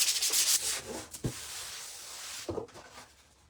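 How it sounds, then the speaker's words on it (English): Soft, scratchy rubbing of a fine sanding sponge in several short strokes, close up, with a couple of light knocks between passes. "we're going to use our fine sanding sponge first"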